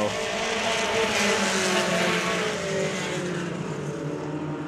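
Legend cars racing at Orange Show Speedway in San Bernardino, a pack of engines droning loudly and steadily as they run around the track, with no gaps.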